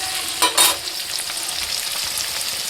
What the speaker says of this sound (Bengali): তো চলো পনিরগুলোকে আমি এবার এরকমভাবে ভেজে নিই সুন্দর করে